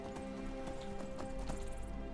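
Horse hooves clip-clop at a steady trot in Skyrim, sharp evenly spaced hoof strikes close and clear over a continuous game ambience, with a brief whinny-like tone near the end.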